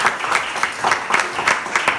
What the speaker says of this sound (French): Allez, on applaudit très fort Marie